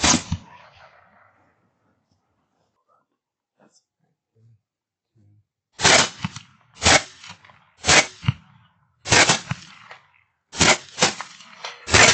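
Gunshots ring out during a nighttime hog hunt with thermal optics, loud sharp cracks in quick bursts, several shots spaced about a second apart and some in close doubles after a quiet stretch.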